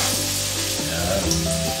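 Ginger hitting a pan of frying fried rice (sinangag) sets off a loud, steady sizzle with stirring scrapes, close and continuous throughout the short stretch.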